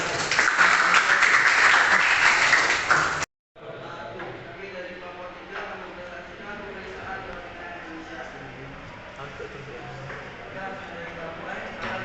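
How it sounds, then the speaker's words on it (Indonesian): Classroom group applause after a presentation, a loud burst of clapping that cuts off abruptly, followed by a quieter room where people murmur and talk. "Berikan aplaus."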